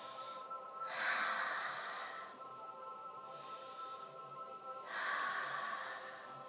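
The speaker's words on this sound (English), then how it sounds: "Take some deep breaths, inhale and exhale." Slow deep breathing during a quiet meditation, two long soft inhale-exhale cycles with a breathy, airy hiss, close and faint, without talk.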